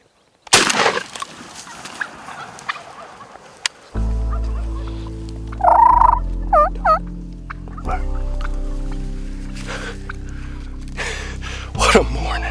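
Gould's wild turkey gobbling during a spring turkey hunt in Mexico, a loud burst of several rapid gobbles, with a sharp bang near the start and people talking.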